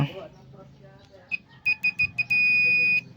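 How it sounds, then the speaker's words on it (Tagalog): A continuity tester's high electronic buzzer, used while repairing a Power Plus welding machine with no output, gives several short beeps, then one longer sustained tone, heard over faint background noise. "may buzzer tayo dito, tingnan natin Yan, tumutunog yung tester natin."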